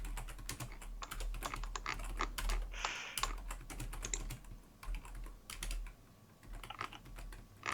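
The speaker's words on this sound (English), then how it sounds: "Like the awkward starts at video where you just hear loads of keyboards." Several computer keyboards clatter with dense, overlapping keystrokes, a steady run of close clicks and taps with brief pauses, and no talking over them.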